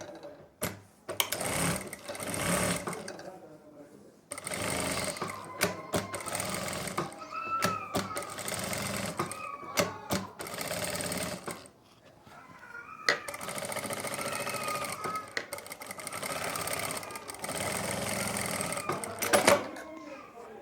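A sewing machine stitches a kurti neckline over buckram in several runs of rapid mechanical chatter with short pauses between them, while someone talks over the stitching.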